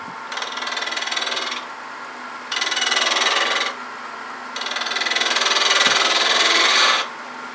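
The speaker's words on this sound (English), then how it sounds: "Just going to blend it with sandpaper" Sandpaper rasping against a spinning wood turning on a lathe, three long bursts of steady scratchy friction separated by pauses, close and loud over the constant hum of the lathe motor.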